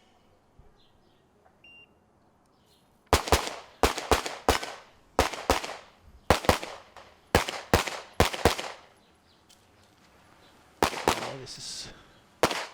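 Gunshots at a practical shooting competition, a Super Six final: sharp, loud pistol shots fired in rapid pairs and short strings with brief pauses between them, echoing slightly, and a commentator's voice comes in faintly near the end.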